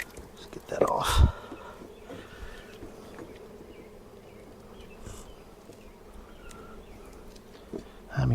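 Bees from an opened beehive in a vineyard hum in a steady, faint buzzing swarm throughout, with a loud knock or thump near the start and end and quiet talk.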